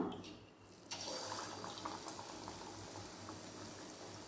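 Potato bondas drop into medium-hot groundnut oil in a kadai, a quiet pause giving way to a steady, bubbling hiss of frying that holds evenly to the end.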